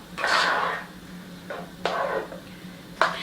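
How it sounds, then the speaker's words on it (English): A spoon stirs payasam in a cooking pot, making three separate scraping, clinking sweeps against the metal with short pauses between them, close up and with no voices. "and give it a stir."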